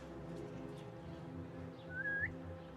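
A short rising whistle in Assassin's Creed Mirage, a single bright tone near the end of the clip over a low, steady game ambience.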